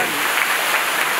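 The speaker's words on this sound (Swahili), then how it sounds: "Hebu mpigie Yesu makofi." A church congregation claps together in a dense, continuous burst of applause, loud and close for a brief moment.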